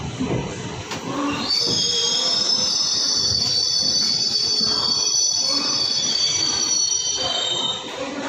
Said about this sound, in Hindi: दोस्तों हमारी ट्रेन पहुंच चुकी है कानपुर सेंट्रल